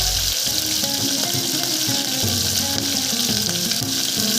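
Curry leaves crackle and sizzle in hot oil in a home kitchen pan, a loud continuous frying hiss with bursts of popping.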